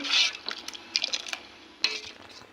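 Milk simmering with gram flour in a cooking pot, stirred with a spoon: a few scraping clinks against the metal and soft bubbling, fairly close, with no talking.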